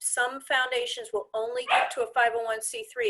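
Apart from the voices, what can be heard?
dog barking in background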